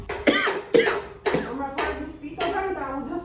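A person coughs in a series of four or five harsh bursts over a few seconds, close and loud, with short pauses between each cough.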